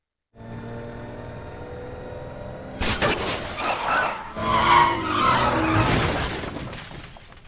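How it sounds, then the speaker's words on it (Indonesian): A car skids out of control after running over a spiked trap, a film sound effect. A low steady engine drone comes first, then loud screeching tire skids with crashing, shattering impacts follow and continue to the end. "ia pun menginjak perangkap berduri hingga membuat mobil Will harus hilang kendali dan mengalami terjun bebas"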